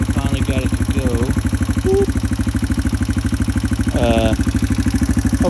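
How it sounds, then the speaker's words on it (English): Yamaha TTR 230 motorcycle engine with its muffler fitted, running steadily close by in a fast even thump, with a brief rev rise near the end and faint talk over it. "I just got it back together and got it running"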